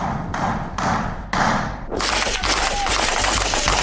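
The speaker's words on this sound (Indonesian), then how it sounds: "Sebuah rekaman menunjukkan tentara Israel melepaskan tembakan dan menyerbu sebuah bangunan di Lebanon Selatan." Gunfire as Israeli soldiers storm a building in southern Lebanon: a burst of loud rapid shots and thuds, then dense, noisy crackling and clatter that stays loud to the end.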